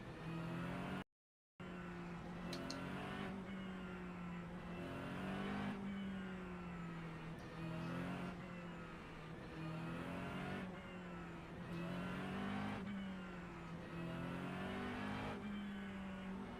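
Race cars lap Sebring in the iRacing sim, engines droning steadily with repeated rises and falls in pitch as they shift and brake through corners, with one brief dropout early on.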